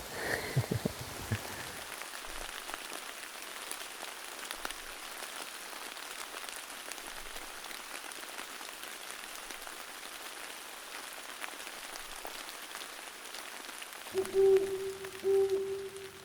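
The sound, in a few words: rain falling on a hunting tree stand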